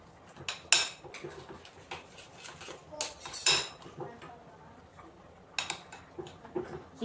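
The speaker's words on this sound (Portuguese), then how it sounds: "Só mexer bem." A spoon clanks and scrapes against the metal pot while mashed potatoes with cream are stirred, giving irregular bursts of clinking separated by softer scraping.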